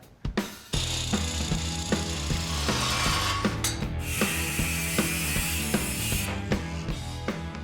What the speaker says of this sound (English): So I'm gonna cut the end of this off and see what it looks like.